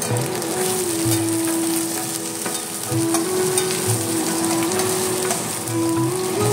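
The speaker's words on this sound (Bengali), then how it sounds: "পেঁয়াজ রসুনটা হালকাভাবে একটু নাড়াচাড়া করে ভেজে নিলাম আমি।" Onion and garlic fry in a pan with a steady, close sizzle, broken by scraping strokes as they are stirred and turned, with a faint tonal hum underneath.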